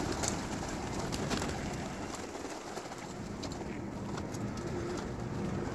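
Pigeons cooing softly in a steady chorus, with low rumbling background noise throughout and no talking.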